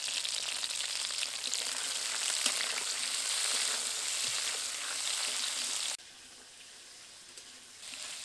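Cleaned prawns sizzle in hot oil with salt and turmeric, a loud dense crackle held close for several seconds before dropping abruptly to a quieter hiss, then swelling slightly again.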